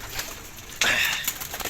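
Racing pigeons in a loft, a brief soft cooing and fluttering burst rising over a quiet room background partway through.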